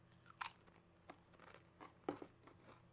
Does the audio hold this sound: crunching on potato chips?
yes